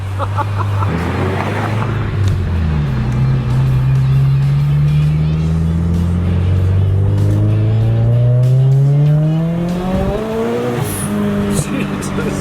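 A 375-horsepower Scion FR-S with a stock clutch drifts on a public road. The engine revs hard, its pitch rising and falling, and the tires squeal loudly through the slide. Voices are faintly present under the noise.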